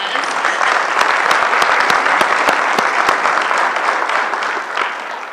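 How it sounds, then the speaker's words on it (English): Steady, dense applause from a breakfast audience at a county awards event, loud and sustained throughout with many hands clapping at once and no talk over it. "I think we can give him a round of applause for how good it was"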